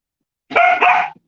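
Dogs let out a quick pair of loud, close barks and fall silent right after.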